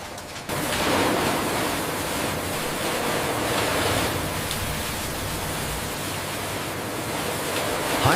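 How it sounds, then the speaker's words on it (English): High-pressure water jets blast crabs inside a factory cleaning machine, a loud, steady broadband hiss and spray that continues unbroken throughout. "High-pressure water ensures deep cleaning."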